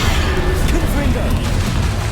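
A Confringo blasting spell from Hogwarts Legacy gameplay: a loud, dense, rumbling burst of fiery magic that stays heavy and continuous for about two seconds, with battle noise layered underneath.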